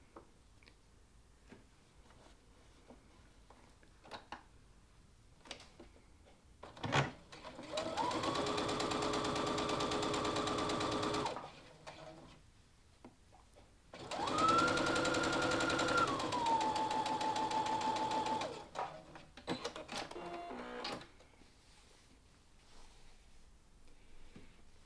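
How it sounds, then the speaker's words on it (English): A sewing machine sews fabric scraps together with a quarter inch seam, whirring in two steady runs of a few seconds each, with quiet clicks and fabric handling between them. "we're going to sew along that edge with a"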